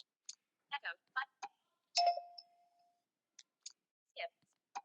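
An Echo notification tone on a phone: a single chime ringing out with a sustained, fading tail, set among short quiet clicks and faint murmured speech in a quiet room.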